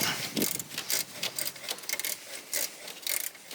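A ratchet wrench loosens an alternator bolt on a 1993 Toyota Corolla, a series of quick uneven clicking bursts repeating close by in short strokes, with no voices.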